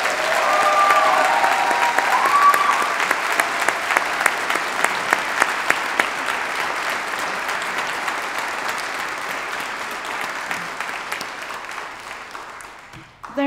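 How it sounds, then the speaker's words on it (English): Audience at a university graduation ceremony giving sustained loud applause, a dense clapping roar with some sharper individual claps, gradually tapering off toward the end. "can I just ask everybody to give a huge round of applause for both our speakers and our presenter"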